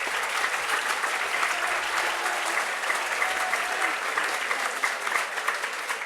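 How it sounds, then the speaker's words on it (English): A crowd at a 2017 party convention evening assembly applauds the candidates, a dense steady clapping that holds evenly for several seconds at moderate loudness. "a very brief round of applause to all of the candidates who took the stage tonight"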